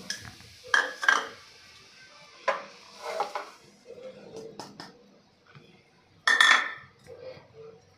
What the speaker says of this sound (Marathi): आपल्याला मंद गॅसवर एक दोन मिनटासाठी परतून घ्यायचं आहे